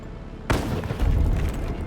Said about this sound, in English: And fireworks.